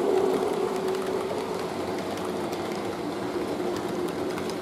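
A Trix BR217 model locomotive runs along a model railway track, giving a steady, close rolling rumble with faint wheel clatter that continues throughout without any talking.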